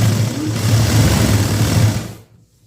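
A sewing machine stitches a blouse lining in a tailoring class, giving a loud, steady whirr for about two seconds before it stops abruptly and falls quiet.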